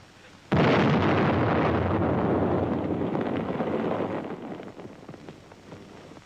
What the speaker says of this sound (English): The pillbox is completely destroyed by the explosion.